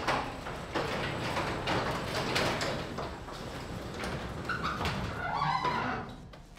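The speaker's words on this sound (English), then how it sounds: "I'm gonna open up the door now." A garage door with newly repaired cables rolls open in one continuous, loud rumbling slide lasting several seconds, with faint rattles near the end and no talking.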